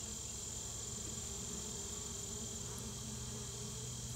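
Honey bees buzzing around an open Langstroth hive during an inspection, a faint, continuous drone of many wings with no talk.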